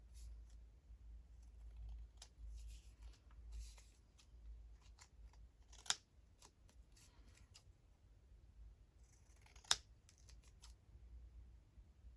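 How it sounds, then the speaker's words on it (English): Scissors trimming uneven edges off paper ephemera for a junk journal, with two sharp snips standing out among soft, quiet paper rustling and handling noises close by. "Just trimming off where it's not exactly even."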